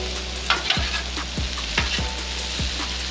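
Smash burgers and onions frying on a Blackstone griddle, a steady loud sizzle broken by repeated scraping spatula strokes and light clanks as the food is stirred and turned, close up with no voices.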